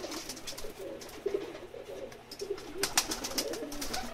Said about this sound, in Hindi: बटेरा कबूतर है जी, सियालकोटी।